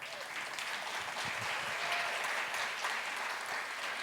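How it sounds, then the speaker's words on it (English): Sustained applause from an audience for jazz musicians after a tune at a summer jazz music intensive, steady dense clapping filling the whole stretch at moderate level. "So give them a round of applause."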